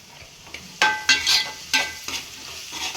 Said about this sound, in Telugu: ఇది ఉల్లిపాయ ఇంకా మనకి మంచిగా ఫ్రై అవ్వాలండి